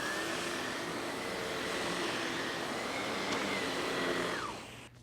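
A SEBO ET-1/ET-2 vacuum powerhead runs steadily up close with a loud, even whooshing motor drone and a slight pitch shift before it cuts down near the end.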